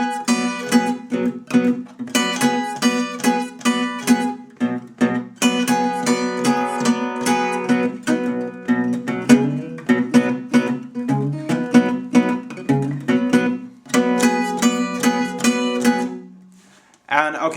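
Blues guitar playing a four-chord positioning riff, with bright strummed chords in choppy rhythmic bursts, close and clear, ending with a short pause.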